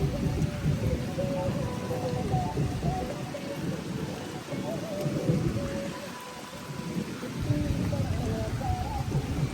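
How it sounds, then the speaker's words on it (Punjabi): Heavy rain pours steadily with a low rumble underneath, and voices talk intermittently over the downpour. "ਮੀਂਹ ਚੈੱਕ ਕਰੋ"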